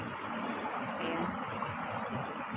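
Water from a mini dam rushes steadily in a broad, continuous wash, moderately loud and close, with faint voices barely audible beneath the flow.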